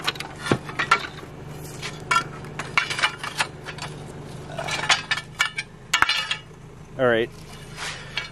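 Solid cast iron or steel threaded rods, probably scaffolding pieces scavenged from suburban trash, clink and clatter as they are handled, giving a scatter of sharp metallic knocks and rattles with some talk in between.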